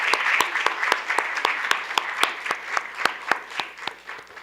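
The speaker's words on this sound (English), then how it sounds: "Please give a big round of applause for Mr. Michael K. Anderson." At a youth government swearing-in ceremony, the audience applauds a savings challenge winner with crisp, distinct claps in a fairly even rhythm, close and clear, with faint voices murmuring underneath.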